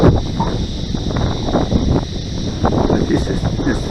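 Gusty wind buffeting a microphone outdoors during a model plane's maiden flight, a loud, uneven low rumble that swells and dips throughout, with faint background sounds underneath.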